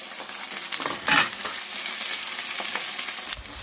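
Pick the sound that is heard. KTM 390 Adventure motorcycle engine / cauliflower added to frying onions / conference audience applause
cauliflower added to frying onions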